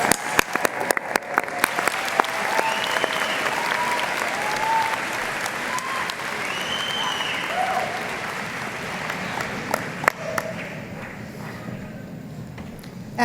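A large crowd at a university commencement applauds the graduates steadily, a dense wash of clapping that holds for several seconds, with a few sharper claps standing out.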